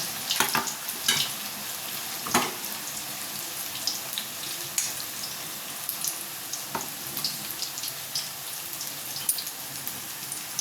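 Cornflour-and-maida battered food fries in a hot pan, a steady crackling sizzle with scattered sharper pops and bursts throughout, close and fairly loud with no voices.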